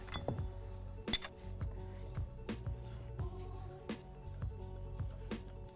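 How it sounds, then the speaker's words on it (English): Metal clinks of a mallet striking a wrench to tighten the rotor nut on a positive-displacement pump, a few sharp, ringing hits spaced irregularly, close and fairly loud over a low background hum. "we'll take this guy, our wrench here, and our mallet, and we'll give it a few hits"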